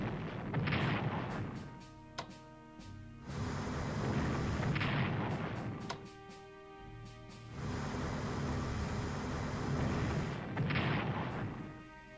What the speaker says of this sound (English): Bombarding this Italian town here.